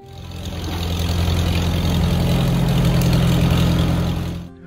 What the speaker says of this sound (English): in the steady engine sound of the Farmall M, we hear the song of labor